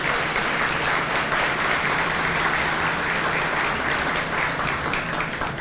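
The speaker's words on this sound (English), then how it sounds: "give them another round of applause for me" An audience at a county luncheon breaks into sustained applause, a thick, even wash of clapping from many hands that stays loud and steady with no talking over it.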